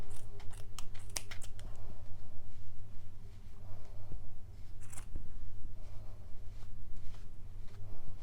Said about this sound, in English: Once you find those, you can just go ahead and cut them.